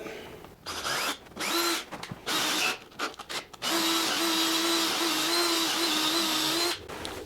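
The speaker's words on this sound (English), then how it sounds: "Drill that all the way in, come down to this end." A power drill with a 5/16 bit whirs in several short bursts, then runs steadily for about three seconds, the motor pitch shifting as the bit bites in, close up.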